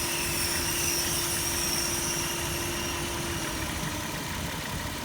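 A Dodge Caravan engine idles steadily during an A/C recharge, with the compressor running. A constant, fairly loud mechanical drone with a steady tonal hum holds evenly throughout, with no voices.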